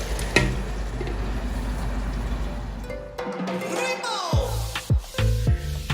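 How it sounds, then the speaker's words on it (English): A pot of spicy peppered kpomo stew sizzles steadily while a spoon stirs it, giving scraping, clacking strokes that grow more distinct and broken up toward the end. "please make sure you're stirring this pot often"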